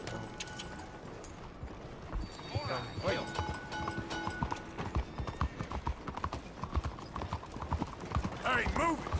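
Horse hooves clip-clop in Red Dead Redemption 2 as two horses are led through a town, a soft irregular trot under background chatter and game voices, with a brief whinny near the end.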